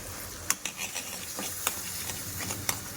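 Masala sizzles and crackles in hot oil in a pan while being stirred, a constant close frying hiss marked by occasional sharp spatter pops.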